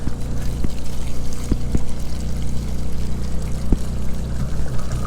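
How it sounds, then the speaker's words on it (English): Water glugs and pours from a cut-open bottle into an RV fresh water tank at a campground. The pour is steady and close, with a few sharp taps and drips, and no talk. "It's dripping just a little bit, but we're getting water into our fresh tank."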